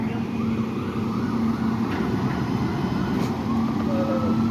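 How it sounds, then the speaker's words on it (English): An ambulance siren approaches at the scene of a car crash into a light pole on Humbolt Ave, a faint, distant wavering wail over steady street and traffic noise. "Now that's the ambulance coming."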